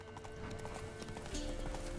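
Hooves of Roach, a horse in The Witcher 3 video game, clip-clop in a steady galloping rhythm with continuous game ambience underneath.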